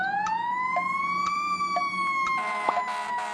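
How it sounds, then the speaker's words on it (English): A fire truck siren wails on the way to an emergency, one steady rising and falling tone that stays loud and close throughout. Faint horn blasts break through near the end. "That's the sound of a fire truck headed to an emergency."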